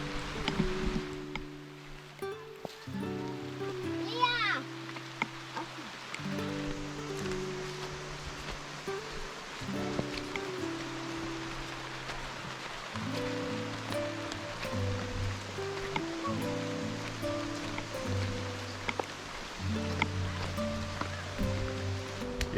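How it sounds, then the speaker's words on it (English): Light rain falls during a walk toward a waterfall, a soft steady hiss with scattered patter, quiet and continuous throughout. "Started to rain a little bit, which is awesome because the temperature was getting ridiculous."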